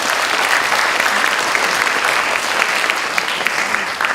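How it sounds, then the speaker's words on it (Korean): A church congregation at a Sunday service for Coming-of-Age Day claps steadily in congratulation. The dense, even applause carries throughout at a loud, constant level. "다시 한번 우리 축하의 박수를 부탁드립니다"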